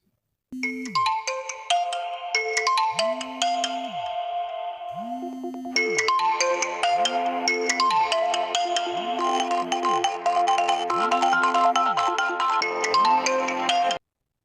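Android phone ringtone for an incoming call plays alone for about fourteen seconds, a bright repeating electronic melody over a steady pulsing low tone, close and clear.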